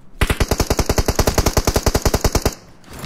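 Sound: gunfire in video game BGMI

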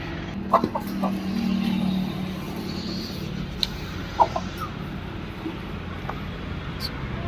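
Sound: chickens clucking

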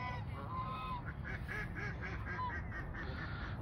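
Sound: white geese honking at a park

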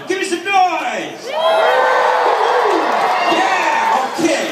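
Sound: stadium crowd cheering and making noise for stunt show

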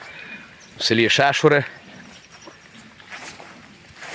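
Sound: horse neighing

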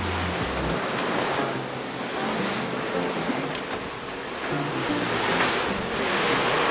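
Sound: choppy sea waves and wind

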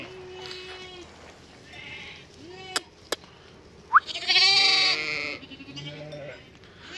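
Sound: lambs and ewes bleating at reunion

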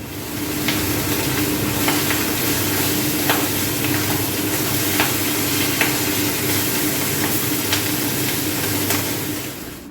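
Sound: small fish frying in oil

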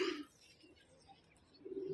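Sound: pigeons cooing

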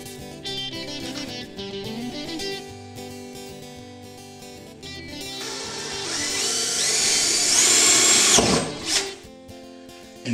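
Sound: power drill drilling hole in barrel

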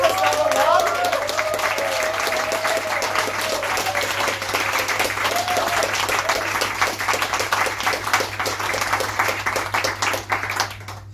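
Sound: applause for the team

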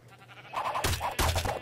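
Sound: sheep bleating in a video game

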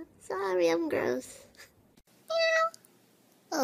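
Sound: person imitating a cat meow

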